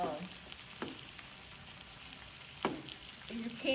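Rice, black beans and sausage sizzle and fry in a pan, a steady crackling bed with a few sharper clinks and stirring scrapes, close and moderately loud with no talk.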